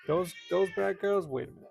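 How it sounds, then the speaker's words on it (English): An old deaf cat meowing loudly, a run of four or five drawn-out, tonal meows in quick succession, close and prominent, with a person speaking over part of it. "So she meows really loud."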